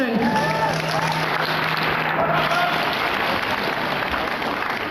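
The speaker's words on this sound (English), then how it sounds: "Give him a big round of applause" Dense, sustained applause from a large crowd at an Idle No More grand entry gathering in West Edmonton Mall, loud and steady for the whole stretch, with a faint murmur of voices mixed in.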